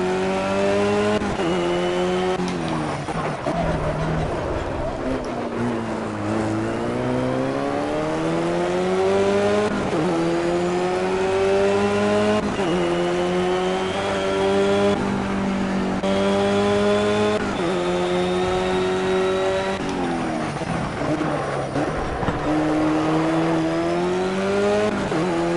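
Race car engines roar in the video game Project Cars, a loud continuous whine climbing in pitch and dropping repeatedly with each gear shift over a long stretch, with faint tire noise.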